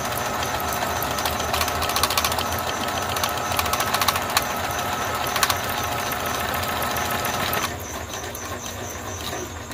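A portable sewing machine runs at speed, a continuous buzzing whir with a rapid stitching rattle, close and steady before easing off near the end.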